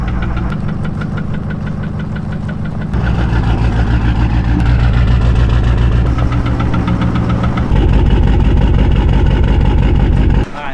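A blown-up Ford F-350 with a compound-turbo 6.7 Powerstroke diesel runs nearby with a loud, rough, knocking clatter that rises in intensity in steps over several seconds before cutting off.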